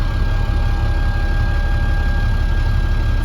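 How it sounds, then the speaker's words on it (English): Dump truck engine idling steadily with a low, continuous rumble, close and loud throughout, with no voices. "so I'm going to start my vehicle."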